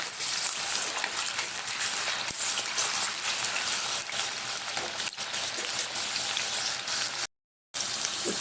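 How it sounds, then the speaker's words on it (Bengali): Boiled potatoes frying in hot oil give a steady, dense crackling sizzle that runs unbroken until a brief cut near the end. "আলুটাকে ভেজে নেব।"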